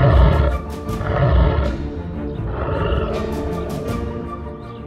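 A lion roars at its own reflection down a well, deep rumbling bursts rising and falling in several loud waves that fill the scene without any talk.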